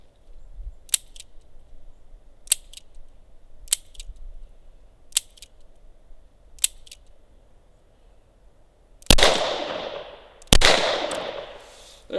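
Ruger LCR X .22 LR revolver fired in a slow, evenly spaced string of five sharp, fairly quiet shots, followed by two much louder, closer cracks that ring out with a lingering decay.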